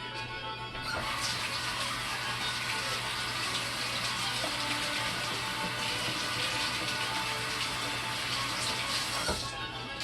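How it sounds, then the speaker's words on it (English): A kitchen tap runs in a steady, full gush while someone washes their hands, starting abruptly and stopping near the end, close and moderately loud with no voices. "Let me wash my hands up"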